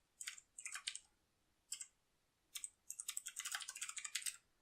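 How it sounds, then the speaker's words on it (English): Fingers type on a computer keyboard while someone writes code. Quiet, close key clicks come in short bursts, then a quicker steady run of keystrokes, with no voices. "Here's what I need to type."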